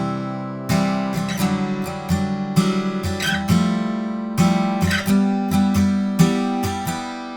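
Acoustic guitar strumming the chord part before the outro of a song, a steady pattern of bright strums with regular chord changes, played close and alone.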